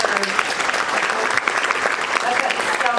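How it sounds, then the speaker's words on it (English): An audience at a retirement travel panel gives a round of applause, a steady crackle of many hands at moderate loudness, with faint voices mixed in. "Can we get a round of applause?"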